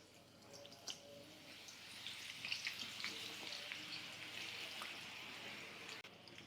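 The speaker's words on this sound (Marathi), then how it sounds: "याला मोठ्या फ्लेमवरच तळायचं आहे" Thinly sliced onions deep fry in hot oil over a high flame for murmura chivda, giving a steady, dense sizzle that stays close and even throughout with faint bubbling crackles.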